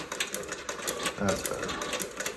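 A Singer 29-4 boot patcher sewing machine stitches at a lengthened stitch setting, giving a rapid mechanical clatter with steady rhythmic pulses throughout, and a person speaks briefly over it.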